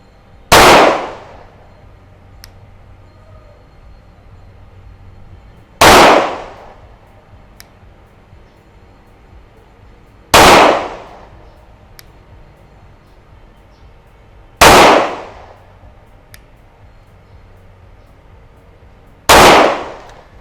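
Five sharp pistol shots from a BUL Axe firing 115-grain ammunition crack out at a shooting range, evenly spaced about four to five seconds apart, loud and close, each with a quick decaying ring.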